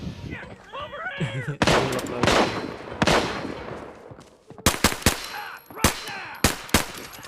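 Gunfire in the shooter game Arena Breakout, fired in single shots: sharp loud cracks come one at a time, then in a quicker cluster of four or five, with game ambience and faint meow-like sounds between them.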